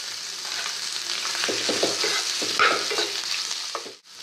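Cut potatoes with a little salt sauté in a pan for a fasting meal, giving a bright continuous sizzle broken by the scrape and clatter of a spatula stirring. The sound stops abruptly near the end.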